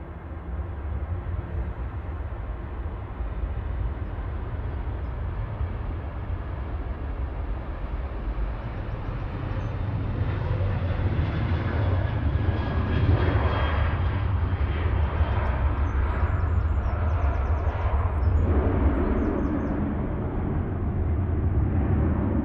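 A Ryanair Boeing 737-800 rolls for takeoff, its jet engines a broad, steady roar that swells as it gathers speed, heard from a distance at an airport with no talk.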